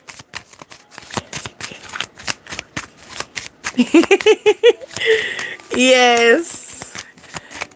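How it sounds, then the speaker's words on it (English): A deck of playing cards handled and shuffled, with crisp papery riffling and flicking in bursts, close up, while a person talks over and between the card sounds. "Let me go through these cards real quick."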